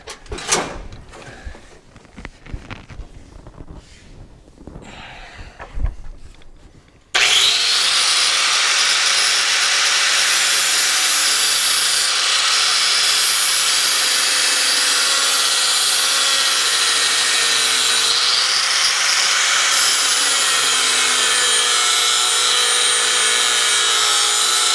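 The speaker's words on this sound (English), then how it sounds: "Grinder." An angle grinder cuts into the tubing of a roll cage in a 1967 Chevelle. Clattering and handling noises come first, then a loud, steady, high grinding whine holds without a break to the end.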